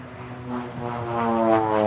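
A twin-turboprop OV-10 Bronco operated by MEAC of Montélimar performing a solo aerobatic display at a warbird airshow, its propellers giving a steady, loud harmonic drone that swells slightly as it passes close by.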